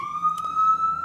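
An ambulance siren sounds as a steady, loud wailing tone that holds near one pitch, with a brief burst of background noise partway through.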